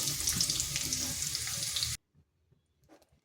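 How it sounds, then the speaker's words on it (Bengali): Potatoes frying until reddish-brown in oil for a Bengali potol (pointed gourd) dish, a dense steady sizzle for about two seconds that cuts off abruptly into near silence with a few faint clinks. "আলুটাকে এভাবে লাল লাল করে ভেজে নিয়েছি"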